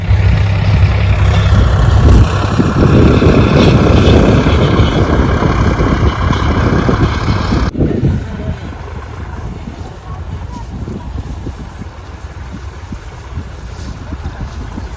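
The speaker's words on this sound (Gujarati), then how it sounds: "આ ટ્રેક્ટર આવે છે" A tractor engine rumbles steadily at farm during groundnut work, loud and low at first, then drops abruptly and continues as a quieter, more distant drone under wind.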